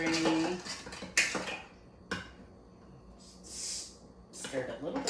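A spoon stirs a bourbon cocktail vigorously in a glass, with several sharp, irregular metallic clinks up close and soft breathing between them.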